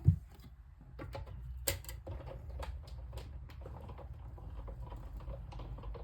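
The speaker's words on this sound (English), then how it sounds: "So I'm just going to cut this circle out now." A die cutting machine cuts a paper circle for card making with faint, steady ticking and light patter under a low rumble, and a few sharper clicks stand out early on.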